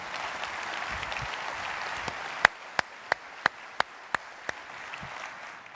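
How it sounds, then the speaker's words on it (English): Audience applause at the ATA 2017 event, a steady wash of many hands clapping throughout, with a run of sharp, evenly spaced louder claps standing out in the second half. "And how about a round of applause for Proud to Be."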